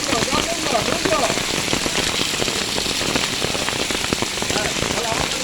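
Heavy rain pouring during a flood that has sent water into an office, a steady close hiss of drops striking surfaces with scattered splashes and knocks.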